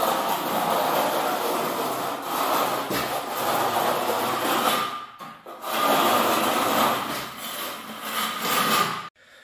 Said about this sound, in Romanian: Am această glitieră. Și tragem cu peretele în vinclu.